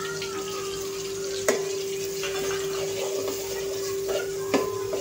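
Spice masala with turmeric and mutton masala sizzles in hot oil for a mackerel curry, a steady frying hiss with a couple of sharp clinks from stirring against the pan.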